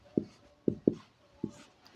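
Chalk tapping and scraping on a board during a Class 10 science lesson, five short sharp knocks spaced unevenly, close and clear with no talk.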